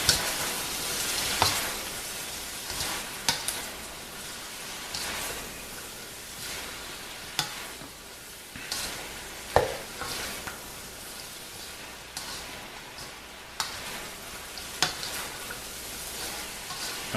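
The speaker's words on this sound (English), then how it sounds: "just gonna stir this around" Vegetable fried rice being stirred in a hot pan, a steady close sizzle with scattered scraping clicks and knocks from the utensil throughout, no talking.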